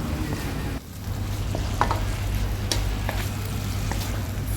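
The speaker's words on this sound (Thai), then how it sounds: "ใส่ใบโหระพาค่ะลงไปแล้วก็ผัดให้โหระพาสุกนะคะ" Clams stir-fried with chili paste and basil leaves in a pan, a steady crackling sizzle with occasional scraping stirs, over a continuous low rumble of nearby road traffic.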